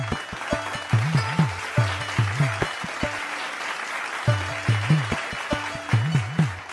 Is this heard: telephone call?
no